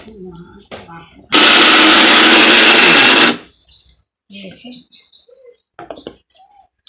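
A blender grinds onion, chili, ginger and garlic into a paste, a loud steady whir running for about two seconds and then cutting off, with voices talking around it and a few birds chirping in the background.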